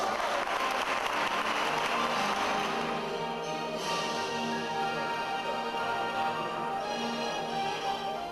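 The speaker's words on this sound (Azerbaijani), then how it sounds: "Alqışlar!" Audience applause at an award ceremony honouring the silver medalists of a national science olympiad, a dense, steady wash of clapping that fills the room evenly and continues without a break.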